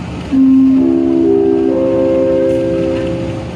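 The Serayu passenger train departs Kiaracondong station bound for Pasar Senen, sounding a loud, sustained horn blast. Layered tones step in one after another and hold steady for several seconds.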